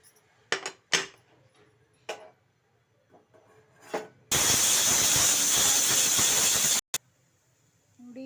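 A pressure cooker holding chopped carrots and beans for sweet corn soup lets out a loud, continuous hiss of steam lasting about two and a half seconds, preceded by a few light clicks and knocks.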